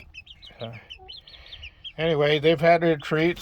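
Backyard chickens, several hens and one rooster, cluck and call in a loud, close burst of repeated squawks after softer scattered chirps, with a person speaking briefly beforehand.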